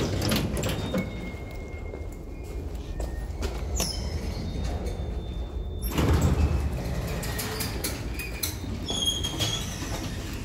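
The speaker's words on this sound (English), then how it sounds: "Platform. Doors opening." Lift doors at Conway Park station, a 1998 EA Foulds lift on the platform level, slide open with a loud rolling rumble midway, set against a steady mechanical hum and faint high electronic tones.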